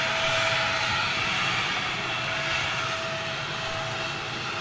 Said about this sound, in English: Got a little biz jet coming out, I think.